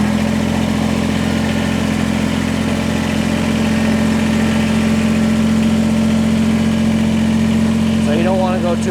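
A Kubota BX compact tractor engine runs at a steady low idle-like drone while the machine creeps forward to reattach an LA344 front loader, a continuous near hum filling the whole stretch with a voice speaking over it.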